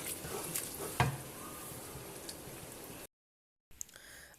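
Minced meat keema stir-fried with ginger in a karahi gives a steady close sizzle with a scrape of stirring, then a short drop to silence before quieter sizzling resumes.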